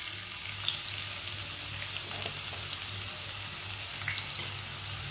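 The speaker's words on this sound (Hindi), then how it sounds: "प्याज को हल्का सा ब्राउन कर लेंगे" Finely chopped onion frying in heated oil, a steady close sizzle and crackle running continuously throughout, with no voices.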